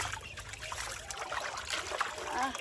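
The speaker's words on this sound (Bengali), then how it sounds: "জল দিয়ে এবারে ধুয়ে নি" Pond water splashes and trickles over a cleaned burnt pan at the water's edge, a close, continuous wet rinsing with light dribbles and splatters.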